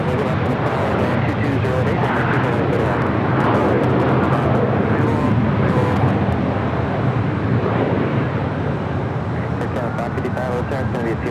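An Air Canada airliner on flight 555 to Vancouver taxis at Los Angeles airport, giving a steady loud broad engine roar with a faint rising whine near the end, heard under ongoing talk.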